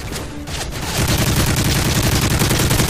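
Sustained automatic gunfire in Modern Warfare 3's Resistance survival mode, loud and continuous, with rounds being fired through a wall at close range.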